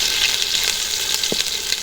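Green chillies sizzle and fry in hot oil in a pan in a village kitchen, a steady, close crackling hiss that runs unbroken, with one brief low knock partway through.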